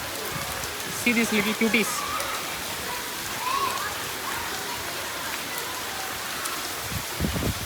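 Steady rain falls outdoors in north Karnataka, a constant hiss of drops on surfaces, with a person talking briefly over it.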